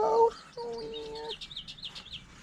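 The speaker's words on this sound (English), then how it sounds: "Birds out here going crazy." Chicken-like birds outdoors let out a loud squawk, then drawn-out clucking calls, followed by a rapid run of faint chirps in the background.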